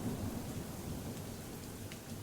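Steady rain pours close by with low rumbling thunder beneath it, a continuous dense wash of drops that holds level throughout with no voices.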